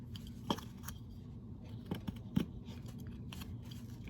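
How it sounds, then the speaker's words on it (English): Small knife carving a notch cut into wood, with faint, close scraping and snipping cuts in an uneven rhythm over a low background hum. "I'm gonna make that same kind of notch cut I did for the hat"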